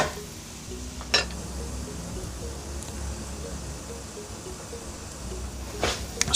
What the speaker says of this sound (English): we're just gonna let this garlic saute for about 2 minutes